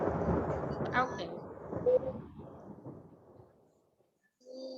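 A thunderstorm with rolling thunder and steady rain, loud at first and fading over several seconds into near silence before a brief burst of noise returns at the end.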